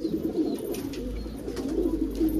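Kalsira and Rampuri pigeons coo at a pigeon shop, several low rolling calls repeating close by against a quiet low hum.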